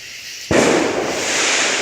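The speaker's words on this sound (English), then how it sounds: "you'll have to excuse the fireworks" Backyard fireworks set off a few days before the Fourth of July: a sudden sharp bang about halfway through, followed by a broad crackling hiss that lingers, nearby and loud.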